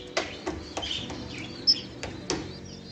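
Lovebirds chirp in short, sharp bursts spaced a few beats apart, with a faint hum of background noise between calls.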